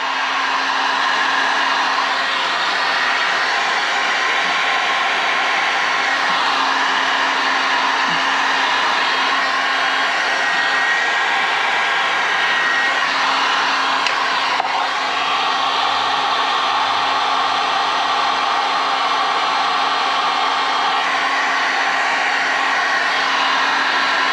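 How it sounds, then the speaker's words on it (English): A heat gun blowing on marine shrink wrap over motor wiring makes a loud, steady, close whooshing roar of hot air that holds unbroken throughout. "So now we're going to heat gun it."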